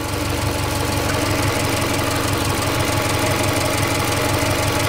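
A Subaru Impreza engine idling with a blowing single-outlet exhaust, giving a steady, loud, rough rumble with a rapid pulsing throb that runs unchanged throughout.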